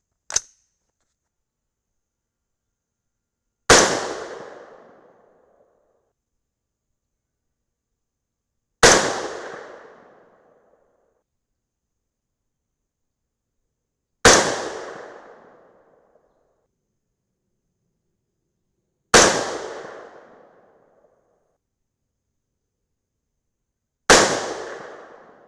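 Five loud .223 Remington rifle shots with 77gr Berger OTM Tactical bullets over 24.5 grains of N540, fired one at a time about five seconds apart. Each sharp crack trails off in a short echo, preceded by a faint click.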